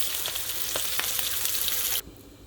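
A brown butter glaze over salmon sizzles loudly in the pan as it cooks down, a dense, steady frying hiss close to the mic with faint crackles, until it stops abruptly near the end.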